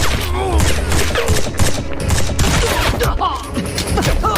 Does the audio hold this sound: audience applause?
no